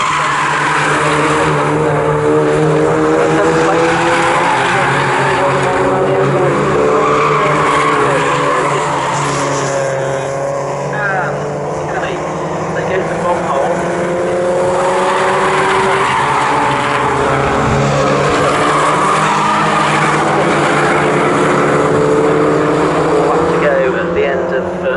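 Mazda MX-5 race cars racing at Snetterton, a pack of engines droning and swelling past at varying distance beneath continuous race commentary.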